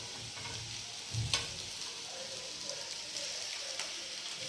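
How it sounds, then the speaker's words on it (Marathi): Sago pearls are added to fried potato chips and chillies in a kadhai over a low flame, giving a steady soft sizzle with a few scraping stirs and light clicks. "आता आपण काय करू हे साबुदाणे याच्यात टाकू"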